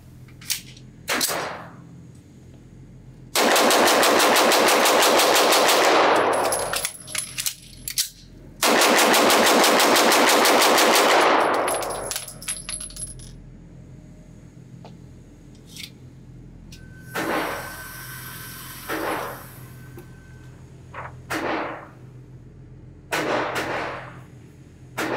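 A Hudson H9 pistol fired as fast as possible for about 30 rounds at a range: two long, dense, loud bursts of shots separated by a brief magazine-change pause, then scattered single shots and clicks.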